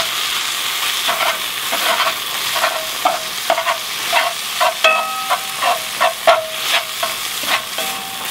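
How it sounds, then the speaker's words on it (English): Ground pork sausage browning in a skillet, loud close sizzling with repeated scraping stirs and clicks of a utensil against the pan. "I'm just browning up the sausage right now."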